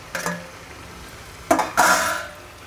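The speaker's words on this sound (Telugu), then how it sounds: "ఇప్పుడు టమాటా ముక్కలు వేసుకుంటున్నాను." Tomato pieces drop into a pan of prawn curry with ginger masala: a short clatter at the start, then a louder clink and a rustling scrape of utensil on metal, close by.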